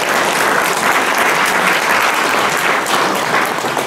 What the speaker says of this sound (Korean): 박수 한번 주시겠습니까?